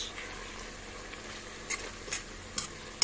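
Steady soft sizzling of minced meat filling frying in a pan, with a few scraping stirs and light clicks of a utensil, close and fairly quiet.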